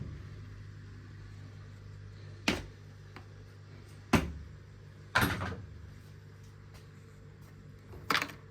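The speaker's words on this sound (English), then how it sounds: "Flip over and open bottom cover." Plastic bottom cover of an overturned Whirlpool (Bauknecht) dishwasher being opened, heard as four separate sharp clicks and snaps spaced a second or two apart over a low steady background hum, near and moderately loud.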